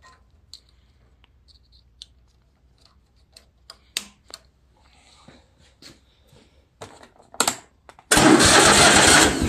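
A Kohler 23 hp V-twin engine on a Craftsman GT3000 riding mower is started: a series of faint clicks and clunks, then the engine catches and runs loud and steady close by.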